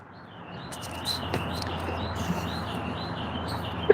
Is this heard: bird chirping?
yes